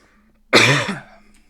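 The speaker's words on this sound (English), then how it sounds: "Sorry, didn't mean to cough in your ear there." A single sharp cough, close and loud, bursting out abruptly and trailing into a brief throaty rasp before fading to quiet.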